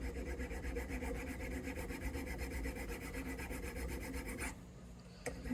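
A file rasps back and forth across a bone saddle for an acoustic guitar, a Yamaha FG9, in steady rhythmic strokes, loud and close, then stops briefly near the end before a short final stroke.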